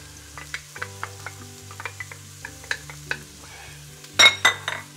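Onion and garlic frying gently in oil in a pan for chili con carne, with soft intermittent sizzling, light stirring taps and utensil clinks, and a louder burst of sizzle near the end over a low background hum.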